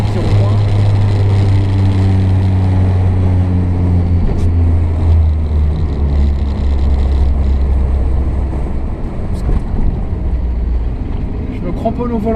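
A Renault car rounds a small roundabout, its engine running with a steady low drone, while a person talks over it throughout.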